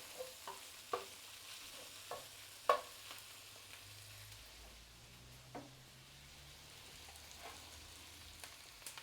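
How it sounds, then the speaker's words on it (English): Shrimp stock hits a hot ceramic pan with a steady soft sizzle, broken by scattered clicks and scrapes of a utensil stirring close by, with no talking. "We do need to deglaze the pan by the looks of it"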